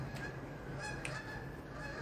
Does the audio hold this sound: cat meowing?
no